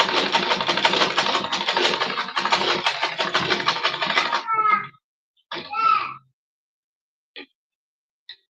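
A sewing machine runs in a fast, steady stitching burr for several seconds along the seam allowance around a ready-made corset cup, then stops, followed by a few short whirs and a faint click.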